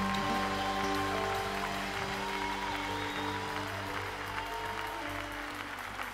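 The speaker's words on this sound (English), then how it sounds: "you can clap better than that." A church conference audience claps steadily and densely throughout, a continuous wash of hands over sustained keyboard or organ music tones, with no pause.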